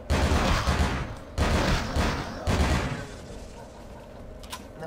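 Gunfire in Vampire the Masquerade: Bloodlines, three loud rapid bursts of shots in quick succession, close and harsh, then fading to quieter game ambience.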